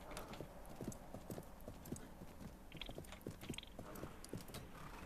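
Horses galloping in the Expeditions Viking game, rapid clip-clop hoofbeats in an uneven rhythm with a brief neigh and faint mechanical clatter, steady and moderately close.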